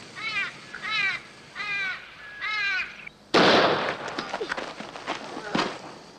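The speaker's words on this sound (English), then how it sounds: "It's just an old crow." Four harsh crow caws ring out in quick succession, then a sudden loud burst of noise cuts in and is followed by scattered crackling knocks.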